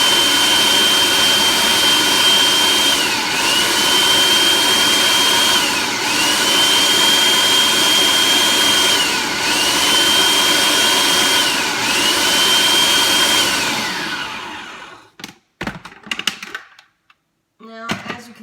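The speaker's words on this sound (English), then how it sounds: "let's go ahead and give it another few pulses on this thing." A blender pulses sofrito ingredients, cilantro among them, with a loud, steady motor whine in repeated bursts that each dip briefly before picking up again. The motor stops near the end, leaving a few short clatters.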